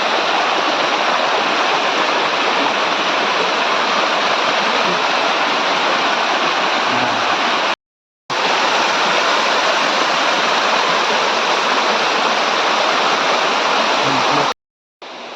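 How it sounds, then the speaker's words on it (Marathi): A waterfall hidden in dense forest at Kalambaste, Sangameshwar, in the Konkan roars loud and close, a constant, dense wash of falling water with no let-up. "हा धबधबा आहे"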